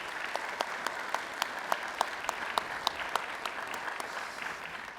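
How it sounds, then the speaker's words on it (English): An audience claps steadily for sponsors at a university speaker event, a faint, even patter of many hands with sharper single claps standing out, and no voices. "If I could get a round of applause for them,"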